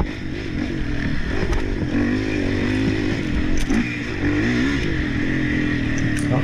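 Dirt bike engines roar and rev continuously during a GNCC off-road race, loud and close, with shifting pitch as riders accelerate and the motor strains over rough ground, no talk.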